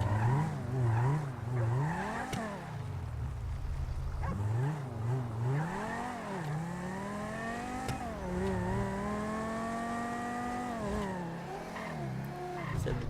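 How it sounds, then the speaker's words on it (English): A car in FiveM, the GTA V mod, revs and accelerates down a road on a test drive, its engine note climbing and falling through gear changes with occasional tire squeal, loud and close throughout. "Let's take this thing down the road real quick. Take it for a quick test drive."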